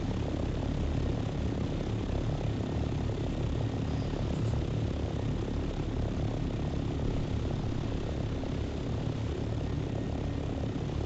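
A scout ornithopter in the video game Dune Awakening flies with a steady, loud, broadband engine drone that holds evenly throughout, with no talk over it.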